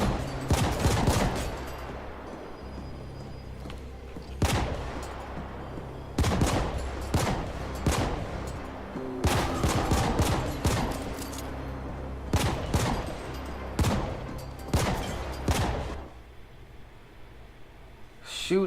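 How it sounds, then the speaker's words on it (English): Bursts of gunfire in the sci-fi shooter The Ascent come in repeated sharp volleys and rapid clusters over a low droning game soundscape, loud and close, with short quiet gaps between firefights. "Press RT to fire your equipped gun."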